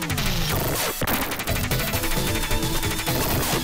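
Rapid weapon fire from the retro shooter game Super Alien Soldier, a dense, loud barrage of repeated shots and impacts that continues throughout with game music underneath.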